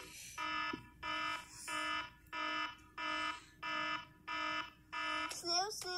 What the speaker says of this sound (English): I think Bunwe is done with her alarm clock.